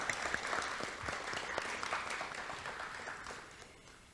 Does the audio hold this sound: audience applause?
yes